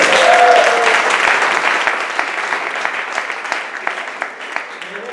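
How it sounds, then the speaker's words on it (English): An audience at a storytelling slam applauds a storyteller, loud dense clapping at first that gradually thins into scattered individual claps, with a voice briefly audible early on. "We'll have another round of applause for Courtney and everybody."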